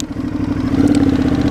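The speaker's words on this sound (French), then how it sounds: "vu que tu es en bicylindre avec le petit moteur en V" An Aprilia Shiver 750 V-twin motorcycle engine runs close by with a throaty, pulsing low idle and a slight lumpy rhythm, steady with no voices.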